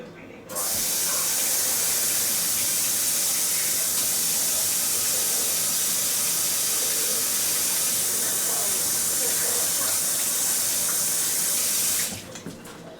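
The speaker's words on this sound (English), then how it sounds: "Of course, I'm going to wash my hands again." Tap water runs steadily into a kitchen sink for about eleven seconds while hands are washed, a loud continuous hiss starting and stopping abruptly, with no talking over it.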